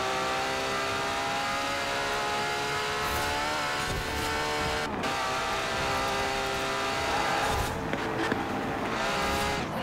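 A McLaren race car races a Ferrari on a custom track in Forza Horizon 4, its engine droning steadily with rising and falling revs, shifting pitch and brief surges, loud and close throughout with no talk.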